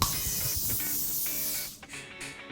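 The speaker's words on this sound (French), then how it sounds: "Je spray sur le dessus" Hairspray is sprayed onto the top of the hair in a long steady hiss from an aerosol can close by, easing off and then resuming briefly, with no speech.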